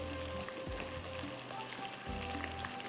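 Mutton harissa mixture sizzles and fries steadily as it browns in a pot, a continuous close crackle with a few soft stirring bumps and no talking.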